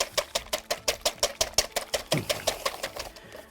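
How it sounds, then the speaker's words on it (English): An electric mixer beats double cream in a kitchen, giving a fast, steady rhythmic whirring with regular pulsing beats, moderately close and alone without voices. "So I'm just going to beat some double cream."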